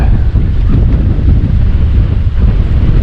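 Strong wind roars steadily across a microphone at a lakeside state park campsite, a continuous loud low-frequency buffeting with no pauses, alone with no voices.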